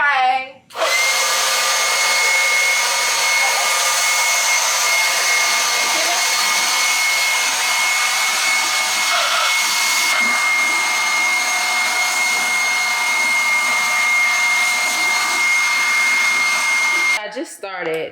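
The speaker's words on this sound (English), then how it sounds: "I'm about to use my blower as well, because I kind of want to test it out" A first-time user's new leaf blower runs steadily and loud for most of the stretch, a constant high whine with a droning hum, starting abruptly and cutting off near the end, on a home deck.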